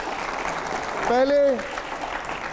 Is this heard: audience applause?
yes